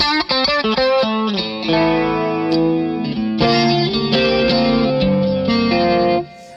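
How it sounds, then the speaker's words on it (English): A Boss ME-5 multi-effects unit puts a fun delay on an electric guitar, giving chorused, distorted 80s-style tones. Chords and picked notes ring out with repeating echoes, loud and close, sustaining for about six seconds before cutting off. "fun bit of delay"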